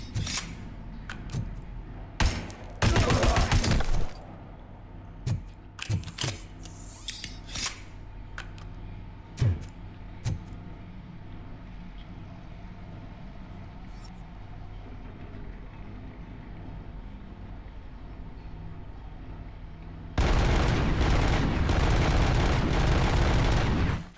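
Gunfire in the video game Robocop: Rogue City, loud bursts of rapid shots and scattered single cracks over a steady low hum, with a long heavy roar of sustained fire near the end, no talking.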